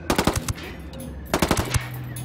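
Two bursts of rapid automatic gunfire from Tom Clancy's Ghost Recon Wildlands, each a quick rattling volley of about six shots with a gap between them, loud and close, followed by a low steady hum.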